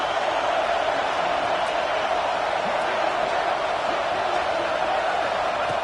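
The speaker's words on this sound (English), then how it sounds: "this crowd is fired up. Listen to this noise here." A fired-up crowd at a playoff football game makes a dense, distant wash of cheering and roar that stays even and continuous with no single voice standing out.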